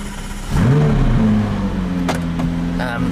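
A McLaren 540C engine fires up and settles into a steady, loud idle with a deep, even drone, while faint clicks and brief interior sounds occur on top.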